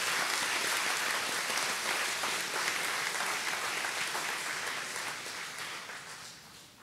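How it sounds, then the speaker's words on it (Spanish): A congregation at a trilingual Easter Vigil Mass breaks into sustained applause, a thick, even roar of many hands that holds steady and then gradually tapers off toward the end. "A todos un aplauso, gracias"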